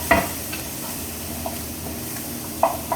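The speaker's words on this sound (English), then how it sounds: "Give it a good mix so it's all mixed around nice and evenly" Tomato purée mixture stirred in a pan for creamy tomato and basil soup, with soft scraping and light sizzling over a steady cooking hiss, plus a few sharper utensil clicks near the start and end.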